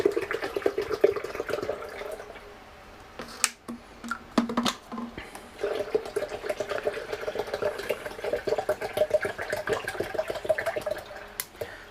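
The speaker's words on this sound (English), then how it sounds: "We're gonna put 2 16-ounce bottles of water in there." Two 16-ounce bottles of water poured into a blender for a chicken brine, giving a soft, gurgling splash and trickle with a few clunks and taps, fairly quiet and close, with no speech.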